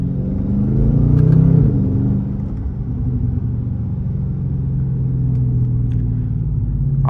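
A Dodge Scat Pack 392 Widebody being driven on busy roads, heard from inside: a deep, rumbling engine that swells briefly as it revs, then settles into a steady low drone, with no talking.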